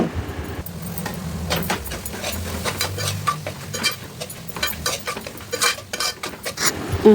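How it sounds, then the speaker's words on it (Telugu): Coriander leaves and roasted coriander powder are stirred into a long bean curry, with a spoon scraping and clinking against the pot in uneven bursts over a faint simmer. "కొంచెం కొత్తిమీర కొంచెం వేయించిన ధనియాల పౌడర్ వేసుకొని మంచిగా కలుపుకోవాలి"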